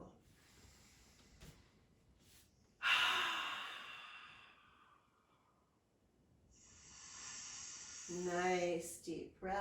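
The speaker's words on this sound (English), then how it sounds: "Nice deep breath." Deep breathing in an online exercise class: a loud airy exhale, then quieter breaths and a long hissing blow, close and soft, with a voice speaking briefly at the end.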